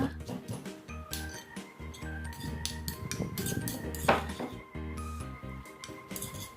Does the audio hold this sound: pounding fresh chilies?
yes